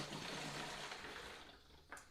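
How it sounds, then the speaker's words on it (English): Vinegar holding citrus rinds is poured into a container for a homemade multipurpose cleaner, a faint, steady liquid rush that tapers off, ending with a small splash. "So let's pour this in."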